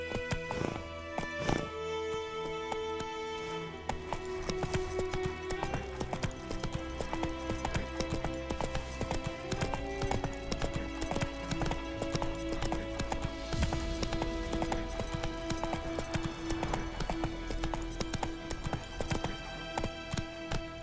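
Roach the horse gallops in The Witcher 3, hooves clip-clopping in a fast, steady rhythm close by. The hoofbeats carry on without a break under game music, with an occasional snort or neigh.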